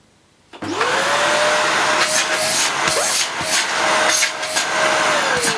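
A Hoover Xarion Green Ray vacuum cleaner switches on with a rising whine, then runs as a loud, steady whirring hum with a sustained tone and some bumping and scraping noises, heard alone with no talking.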